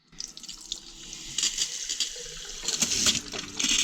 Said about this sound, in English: The pump does make a bit of a noise to start off with. It's just a bit of the air, obviously the air that's in the system